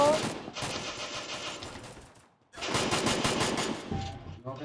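Automatic gunfire in Garena Free Fire, two long sustained bursts of rapid shots separated by a brief pause, loud and close, with some voice chat underneath.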